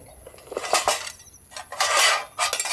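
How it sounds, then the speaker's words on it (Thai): Metal KINOX camping pots from a carry-bag set clink and clatter as they are unpacked and handled, in several bursts of close, bright rattling separated by short quiet gaps, with no voices. "ในกระเป๋าก็จะมีหม้อแบบนี้ ในหม้อก็จะดึงออกมาเป็นหูจับมีฝาปิดให้"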